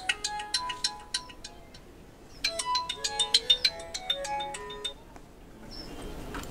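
A telephone rings with a bright electronic ringtone, two short bursts of rapid repeated tones separated by a brief pause, moderately loud over a quiet background.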